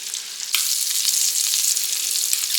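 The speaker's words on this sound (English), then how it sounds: "I'm flipping my shrimp" Shrimp sizzle steadily in a frying pan after being flipped, a dense, continuous crackle with a slight jump in loudness early on, close and with no talking.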